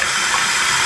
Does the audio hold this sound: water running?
yes